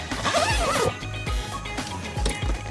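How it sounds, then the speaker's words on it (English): A Giant Panda seat cover zipper on the back seat of a 2020 Toyota RAV4 is pulled open in several quick, raspy strokes, close and loud, with short pauses between each tug. "Undo the zipper."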